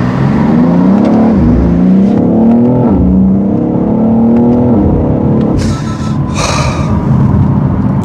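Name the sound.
BMW X3 M Competition engine accelerating from first gear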